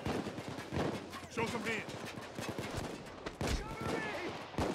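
Rapid bursts of video game gunfire crackle repeatedly through a busy firefight, close and loud, with people talking over the shots throughout.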